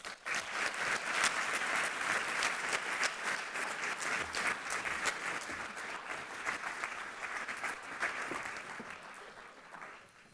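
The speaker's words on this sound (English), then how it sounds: "Ladies and gentlemen, a heartfelt round of applause, Mr. Trevor Manuel." Warm applause from the audience at a keynote address, with dense rapid clapping rising quickly and continuing steadily for about ten seconds before tapering slightly at the end.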